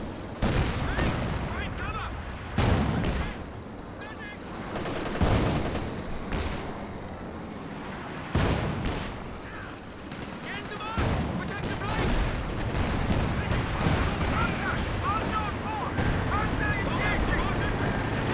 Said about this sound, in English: artillery there, firing in the centre